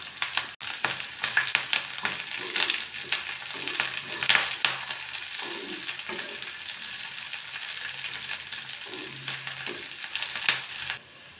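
Crushed garlic cloves, curry leaves and tamarind sizzle and crackle steadily in hot oil in a pan, a loud close fry with occasional stirring scrapes that carries on for several seconds before cutting off.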